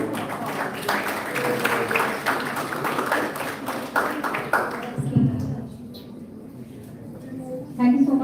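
Seminar guests at a college national seminar receive applause from the audience, a mass of clapping for about five seconds that fades to a quiet room, after which a voice speaks briefly near the end.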